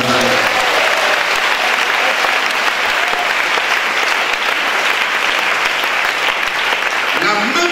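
A church congregation gives loud, steady applause to acclaim Jesus, a dense wall of many hands clapping at once that continues without a break throughout.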